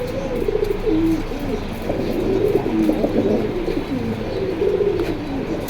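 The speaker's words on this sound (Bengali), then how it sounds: "আগে দেখেন আপনাদের কবুদের পছন্দ হয় কিনা" Pigeons for sale at a market coo close by in repeated low, throaty rolls, several birds overlapping steadily over a murmuring background.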